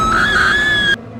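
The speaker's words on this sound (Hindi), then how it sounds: "फिर एक ज़ोरदार चीख की आवाज़ आई" A loud, sustained high-pitched scream in a horror story, a single piercing cry holding steady for about a second before cutting off abruptly into near silence.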